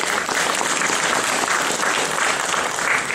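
Audience applause at an internationalist political conference gathering on the Russian Revolution, thanking the organisers: dense, steady clapping from a sizeable crowd, loud and continuous throughout with no voices standing out above it.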